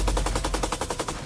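Rapid machine gun bursts on the Zaporizhzhia front in Ukraine during a counterattack, a steady loud rattle of repeated shots with no talking over it.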